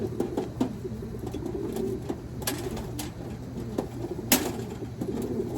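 Pigeons coo softly and repeatedly against a steady low hum, with a few sharp clicks and rustles scattered throughout.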